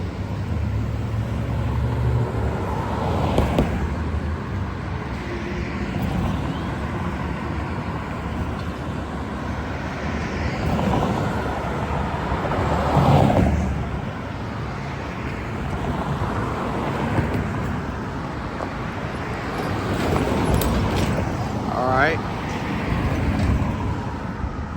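Cars move through the intersection of CR 94 and Magnolia Parkway after the light turns green. Several vehicles swell past one after another over a constant outdoor roar of traffic and wind rumble.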